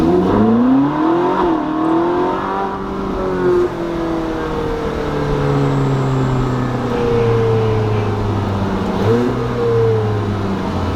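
A Ferrari 458 Spider V8 revs up and down on back roads, with loud, sustained engine tones climbing and falling in several sweeps as the car pulls hard, close and continuous throughout.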